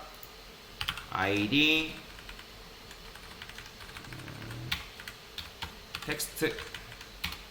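Computer keyboard keys clatter in short, close bursts of clicks while JavaScript code is typed; a voice speaks briefly near the start, and the keystrokes follow in quick uneven runs.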